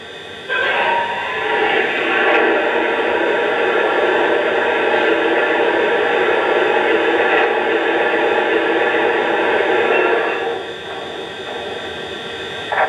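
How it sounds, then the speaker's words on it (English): A steady, loud rushing hiss of water pouring into the tender of a Lionel 2-6-6-6 Allegheny model train, running unbroken for about ten seconds before easing off. "Here's the sound of water being added to the tender."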